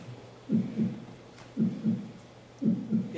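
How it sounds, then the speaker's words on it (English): A heartbeat sound effect gives three slow, evenly spaced double thumps, each a soft low lub-dub standing alone against a quiet background. "He starts to hear the old man's heart beating."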